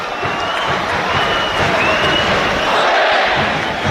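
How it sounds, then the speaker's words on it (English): A football stadium crowd at an Armenia vs Wales Euro 2024 qualifier, a loud, dense roar of cheering that swells and holds, with a few sharp whistles rising above it. "And the crowd really into this now"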